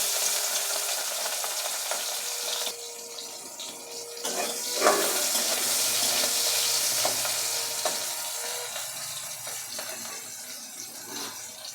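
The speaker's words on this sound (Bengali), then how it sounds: "এর মধ্যে দিয়ে দেবো ম্যানের চিংড়ি এটা একটু হালকা ফ্রাই করে নেবো" Shrimp frying lightly in hot mustard oil, a continuous loud sizzle with scraping stirs and occasional clinks throughout.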